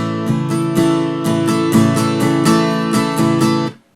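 Strummed acoustic guitar chords in a rhythmic pattern with an added extra strum, bright and close, several evenly spaced strokes ringing before the final chord is cut off.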